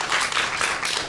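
Brief burst of audience clapping at a literary talk with novelist Marlon James, dense applause in a hall lasting about a second.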